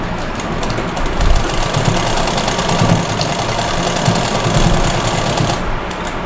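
A sewing machine stitches over stretched elastic on a frock for a seven-to-eight-year-old girl, running in one steady, close, continuous whir with rapid needle chatter and no voices.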